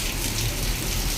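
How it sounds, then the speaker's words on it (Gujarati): Heavy monsoon downpour drenching a rooftop terrace, a dense steady hiss of rain with constant spattering on hard surfaces, close and unbroken for the whole stretch. "હા કેવો ધોધમાર વરસાદ આવે છે"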